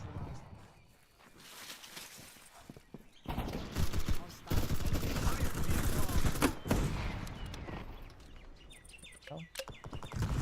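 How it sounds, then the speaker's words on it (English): Enemy gunfire in a first-person shooter video game: bursts of rapid shots crackle through the middle of the clip, loud and dense, with a player's voice talking over the action. "Taking fire. Oh! Enemy fire."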